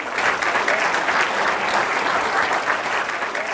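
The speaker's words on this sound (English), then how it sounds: "Bernie, big round of applause for you." An audience at a body language demonstration breaks into steady, sustained applause, dense clapping filling the room at an even level throughout.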